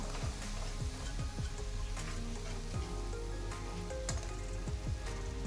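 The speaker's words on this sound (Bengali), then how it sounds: "আমি এটাকে খুব ভালো করে নাড়াচাড়া করে আট থেকে দশ মিনিট সময় ধরে এটাকে কষিয়ে নেব" Pointed gourd paste sizzling as it is stirred and fried in a pan: steady, dense frying crackle throughout, with repeated soft scraping strokes of the stirring, close and even in loudness, no talking.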